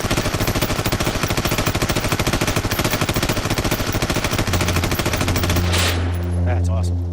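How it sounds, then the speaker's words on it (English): Sustained automatic fire from an HK416 assault rifle, a loud, dense rapid stream of shots running about six seconds before cutting off into a fading ringing tail. "The 416's rate of fire is about 650 rounds a minute."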